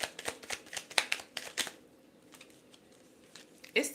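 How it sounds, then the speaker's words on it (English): A deck of tarot cards is shuffled by hand in a quick run of crisp riffling snaps, close and clear, pausing midway before a final burst of flicks. "Let me do one more shuffle."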